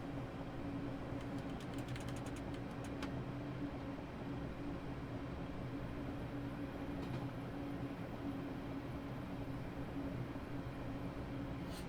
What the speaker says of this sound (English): Feels wrong driving this frankly huge train in a tunnel like this.